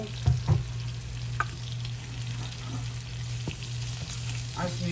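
Flour browning in hot oil in a frying pan sizzles steadily and close, with a low hum beneath and a few soft clinks and scrapes from a utensil, no voices.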